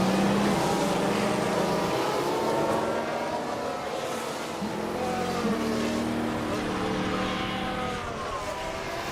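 Formula One race cars in the F1 Manager 2013 video game scream past on a lap of the Canadian Grand Prix, a loud sustained engine whine that rises and shifts pitch as several cars pass through.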